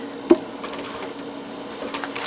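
Chicken meat stirred into a pot of homemade soup with dehydrated vegetables and seasonings: one sharp knock near the start, then a steady, soft, wet sloshing churn close by with no talk.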